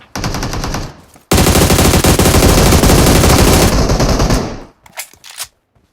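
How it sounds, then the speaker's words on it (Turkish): Video game gunfire: a long, loud, close burst of rapid automatic fire, preceded by a shorter burst and trailed by a few scattered single shots, with no voices. "Birbirinize mi sıkıyorsunuz?"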